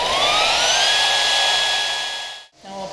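An AGP HP1400 high-frequency brushless beveller spins up with a rising whine, holds at full speed, then cuts off abruptly near the end.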